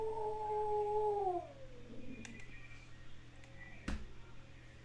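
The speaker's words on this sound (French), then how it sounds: "Il y a le chien, il baille." A dog yawns with a long, whining, squeaky tone that slides downward and fades, followed by faint clicks and a soft thump in a quiet room.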